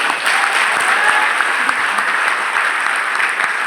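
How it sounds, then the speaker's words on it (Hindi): Loud, close applause from an audience at a business leader's motivational talk, a thick continuous roar of clapping hands that stays even throughout. "तालियां नहीं बजा सकते?"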